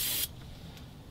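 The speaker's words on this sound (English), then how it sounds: "We're gonna hit this with a little bit of brake clean." A short, sharp blast of brake cleaner hisses onto a Ram 3500 HD dually rear brake disc. The blast lasts a fraction of a second up close, then stops abruptly and leaves a low room hum.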